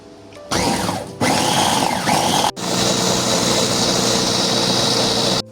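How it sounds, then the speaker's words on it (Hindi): A loud motorized whirring grinds steadily, pausing briefly twice and restarting, as a blender runs in short bursts grinding a spice paste with a little water. "अब इसको हम एक मशीन में डालेंगे, ब्लेंडर में, इसका अच्छे से पेस्ट बना लेंगे।"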